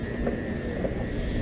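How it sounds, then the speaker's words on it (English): Steady low rumble of a Chicago elevated Orange Line train idling at Midway station, with a faint constant whine above it, continuous and unchanging, no voices. "there is a train waiting for us right now"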